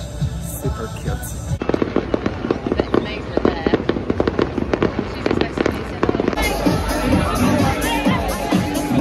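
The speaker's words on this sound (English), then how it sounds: "Just watching the fireworks from the shop." Fireworks burst over Glastonbury festival at night, seen from a shop: a dense run of sharp cracks and booms, loud and close, that thickens into a rapid crackling barrage toward the end, with crowd chatter underneath.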